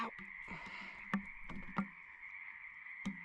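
Several frogs croak in repeated bursts as they are released at a pond, with a steady chorus and a few louder, sharper calls close by and no voices.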